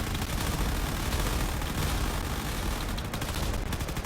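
Dense, continuous gunfire from fortress turrets and attacking fighter craft in a space combat game, a loud steady barrage of rapid shots with no pauses, heard alone without talk.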